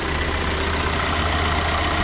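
Volkswagen Crafter with a three-litre petrol engine idling steadily, a constant low engine drone with a faint mechanical hum, heard alone at close range without a break.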